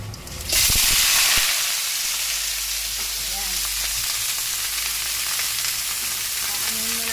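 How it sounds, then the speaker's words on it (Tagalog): Shrimp dropped into hot oil in a pan, a sudden loud burst of sizzling that settles into a steady, close frying hiss with occasional crackles, no talking. "iprituhin ang hipon at pinagsama"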